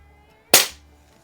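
A single sharp crack from a 1970s Smith & Wesson 79G .177 CO2 target pistol, a loud close report with a short fading tail in an otherwise quiet setting.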